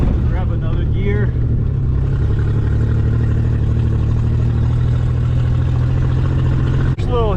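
A Ford Bronco engine drones steadily while driving off-road at Rausch Creek, a close, continuous rumble with some brief voice-like sounds early on and a sharp knock near the end.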